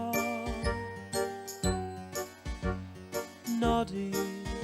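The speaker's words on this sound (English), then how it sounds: "his tinkling bell means he's the happiest little fellow in all Toyland." A tinkling bell on Noddy's little red and yellow toy car rings in Noddy's Toyland Adventures, bright repeated jingles and chimes woven through a musical passage. The sound is close and clear, with no talk over it.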